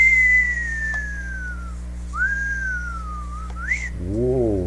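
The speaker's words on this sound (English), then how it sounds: "I just whistled." A person whistles alone, long gliding tones that slide downward, a rising swoop and a short upward flourish, clear and close over a steady low hum.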